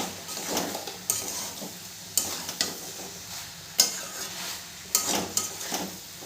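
Soybean chunks and potatoes, fried earlier, are being sautéed with spices in a pan: a steady soft sizzle with repeated scraping stir strokes at roughly one-second intervals, close and fairly quiet, with no voices.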